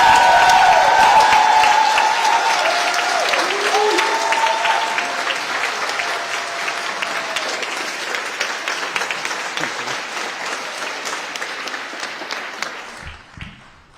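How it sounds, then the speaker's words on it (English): Applause as Seattle Mayor Bruce Harrell takes the stage inside City Hall: a loud crowd clapping and cheering at first, with voices and a tone heard early, gradually thinning out before fading near the end. "coming out to a round of applause"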